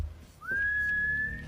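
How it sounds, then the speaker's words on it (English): A single eerie whistle rises and then holds one steady, fairly loud tone for about a second over a low background rumble. "Only to hear the whistling again and getting closer."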